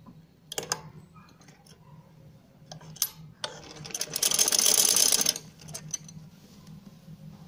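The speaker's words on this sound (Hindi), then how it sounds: "तो आपने आराम से इसको साथ मिलाते हुए सिलाई लगाऊंगी।" A sewing machine runs in short bursts while a sleeve is stitched into a shirt armhole, its mechanical whir and clicking rising to one longer, louder run in the middle before stopping; no talk.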